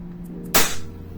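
A single sharp crack from a WE Trex Hicapa airsoft pistol firing once, close and loud against a quiet background with a brief low tail.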